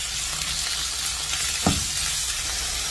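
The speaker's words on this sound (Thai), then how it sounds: "ใส่หมูกับ ขิงนะครับ ลงไปผัดด้วยกันนะครับ" Pork with ginger, garlic and chili stir-fried in a hot pan gives a loud, continuous sizzle and crackle that is fairly close, with a single brief scrape of stirring partway through and no talk.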